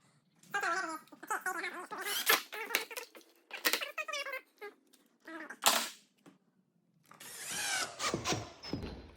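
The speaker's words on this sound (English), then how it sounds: "I'm gonna screw these one in. Tighten them up." Screws being driven in while a bedroom door knob is installed, heard as a series of short, close whirring bursts from a power driver separated by brief pauses.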